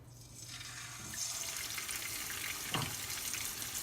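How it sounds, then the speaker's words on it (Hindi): Fish pieces are dropped one by one into hot oil over a medium gas flame, producing a soft, steady hiss and crackle that swells after the first second and continues, fairly faint with no talking. "एक एक करके फिश तेल में डालना है।"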